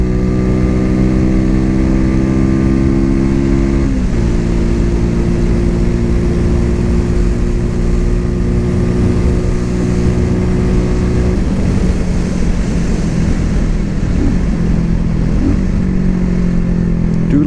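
A Cougar Vitacci XMT 250 motorcycle engine revs loud and close, its steady harmonic drone stepping up and down in pitch through repeated throttle changes, with no talk over it.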